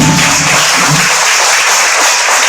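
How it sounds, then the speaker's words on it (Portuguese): A church congregation applauds during a sermon, loud dense clapping from many hands that holds steady and close for the whole stretch, with no voices over it. "Você pode aplaudir Jesus aí, gente?"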